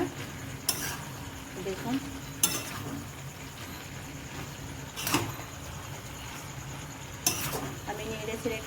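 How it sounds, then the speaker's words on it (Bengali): Chicken roll filling stirred and fried in a pan, with repeated sharp scraping strokes of the spatula over a steady low sizzle, close and moderately loud, with a brief spoken word. "একে ভালো করে নেড়ে চেড়ে পুরো ভেজে নেবো একদম, একটুও জল থাকবে না।"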